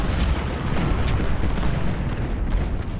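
Napoleon and howitzer cannon fire in the Ultimate General: Civil War video game rolls as a dense, continuous low rumble of overlapping booms, loud and sustained with no clear gaps between shots.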